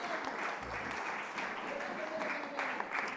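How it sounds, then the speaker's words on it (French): A church congregation applauds and cheers together at a Sunday service, a steady dense wash of clapping throughout with a voice faintly underneath. "Est-ce qu'on peut vraiment applaudir, acclamer ensemble toutes les femmes?"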